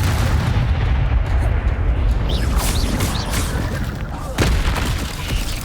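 Spell combat in Hogwarts Legacy fills the scene with loud, rumbling booms and crackling magical blasts over a dense, continuous roar, with sharp impacts and swooshing effects layered on top.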